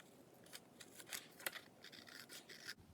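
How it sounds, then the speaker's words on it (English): Scissors snipping through a paper photograph for a scrapbook layout, a series of quiet, close crisp snips and soft paper scrapes in a steady irregular rhythm, with no talking. "So now I can cut the picture."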